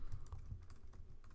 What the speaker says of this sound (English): Oops, my typing is bad.